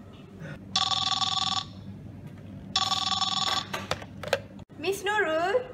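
An office telephone bell rings in two clear bursts with a pause between, followed by brief clicks and a short voice at the end.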